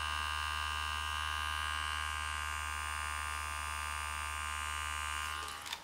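A facial cleansing brush running in a bathroom routine gives a steady, loud electric buzz with a low hum, unbroken for several seconds before it cuts off at the end.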